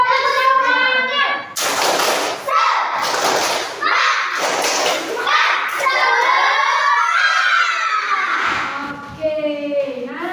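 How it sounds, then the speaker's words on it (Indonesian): Children clap and chant together in a loud, rhythmic pattern, with bursts of claps mixed with shouted voices close by. "Tepuk semangat."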